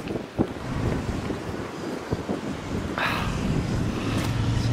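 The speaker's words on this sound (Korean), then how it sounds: "바람도 솔솔 불면서" Wind gusts across the microphone at the Busan seaside, a continuous rough roar with faint surf beneath and no voices.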